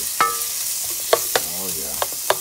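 Sliced onions sauté in a pan with a steady bright sizzle, punctuated by several sharp scraping stirs and knocks of a utensil against the pan, near and alone.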